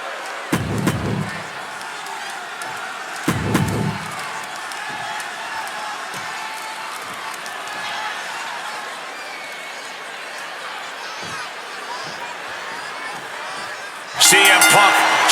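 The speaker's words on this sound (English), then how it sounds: "just listen to this crowd here in Chicago" Wrestling arena crowd in WWE 2K26, in Chicago, a constant low roar of the crowd with two loud slams near the start, a commentator talking over it and a sudden burst of cheering at the end.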